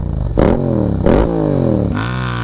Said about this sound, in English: I have this awesome Akrapovic carbon full race exhaust without the baffle.